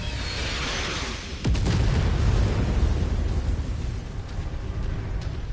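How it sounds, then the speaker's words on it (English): Artillery shells explode in MechWarrior 5, a sharp close blast followed by heavy rumbling and a continuous roaring wash of debris and distant booms. "If you need a break from artillery"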